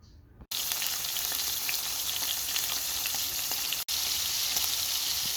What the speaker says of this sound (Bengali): চিংড়ি মাছ ভাজা হয়ে আসছে